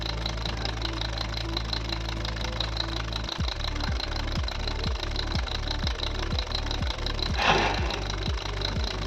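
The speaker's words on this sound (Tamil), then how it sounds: "இப்போ கம்ப்ரஸர் வந்து ரன் ஆகும். கம்ப்ரஸர் ஆன் ஆகிடுச்சு." An LG single-door inverter fridge compressor kicks on after a steady hum, then runs with a rapid, regular knocking pulse that stays close and loud. A brief hiss rises partway through.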